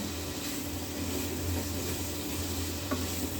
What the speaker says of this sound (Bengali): মিষ্টি কুমড়োটা আমি একটু নেড়ে নিব